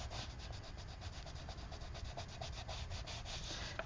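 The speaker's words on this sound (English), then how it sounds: "Sharpening." A pencil turns in a sharpener during a coloring session, giving a steady, close, continuous scraping and rubbing grind with a faintly pulsing rhythm for several seconds, with no voices.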